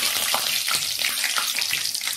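Beef cutlets fry in hot oil with a continuous bright sizzle, dotted with small pops and crackles that repeat at a loose, irregular rhythm throughout.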